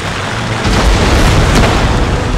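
Naval cannon fire aimed at ship sails in the Empire: Total War video game, a loud sustained boom and rumble that swells after a moment and stays dense and noisy without a pause.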